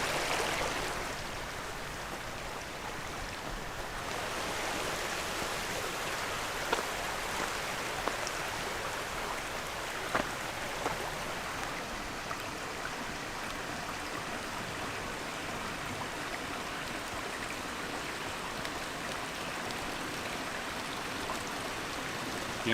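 Steady rain falls on a mountain trail during a backpacking trip, a dense, even hiss that holds for the whole stretch with a few sharper drop taps, and no one speaks.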